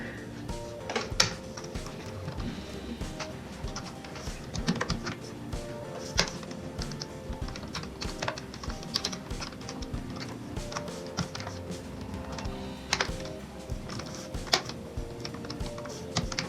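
Arduino code for a robotic arm being typed on a computer keyboard: continuous close, busy key clatter with irregular taps and occasional louder strokes, a single brief spoken word at the start.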